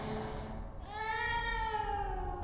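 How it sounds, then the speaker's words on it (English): A cat in the video game Stasis lets out one long drawn-out meow, close and clear, rising and wavering over a low ambient game drone. "A mangy feline purrs uncaringly at its present predicament."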